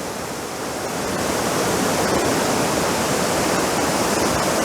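A Tasmanian waterfall pours down into a valley with a steady, close, loud rushing roar of falling water that swells slightly and continues without pause, with no voices.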